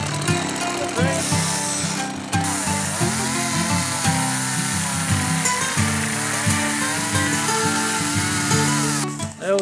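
A chainsaw runs steadily and loudly for nearly ten seconds while cutting pieces over a garage concrete slab, its engine pitch rising and dipping as the load changes.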